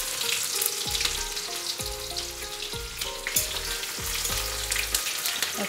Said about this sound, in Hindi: और प्याज को 1 मिनट भूनेंगे।